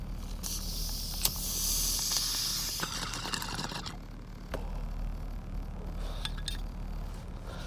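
Air blown and hissing through a clogged smoking bowl, a sustained breathy airy rush for a couple of seconds followed by scattered faint clinks and softer intermittent puffs, close and fairly quiet.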